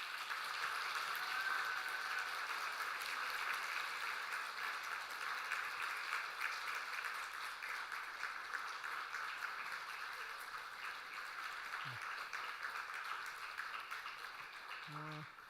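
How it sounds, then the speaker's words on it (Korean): Church congregation applauding during a Sunday service in Samcheok as flowers are presented, a steady, fairly quiet wash of many hands clapping that holds evenly for the whole stretch without a clear voice on top. "우리 꽃다발 전할 때 큰 박수로 우리 격려하도록 하겠습니다"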